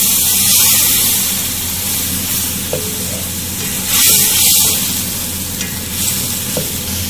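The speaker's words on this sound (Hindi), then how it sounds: "अब हम इसके अंदर टमाटर का पेस्ट शामिल करेंगे।" Tomato paste and onions sizzle and fry loudly in a pan, a continuous bright hiss with stirring scrapes and small surges, and no talk over it.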